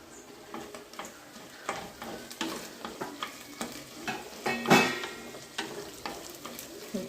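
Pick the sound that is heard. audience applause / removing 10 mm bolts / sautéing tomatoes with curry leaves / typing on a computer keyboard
sautéing tomatoes with curry leaves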